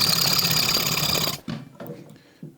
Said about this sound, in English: Now I'm splitting it with a small handsaw.